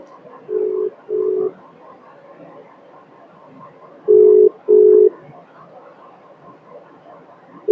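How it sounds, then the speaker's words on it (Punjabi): A telephone rings close by in two pairs of short electronic tones, with a long gap between the pairs. "ਕੋਈ ਦੀਪ ਨੂੰ ਫੋਨ ਲਾਉਣੀ ਆ"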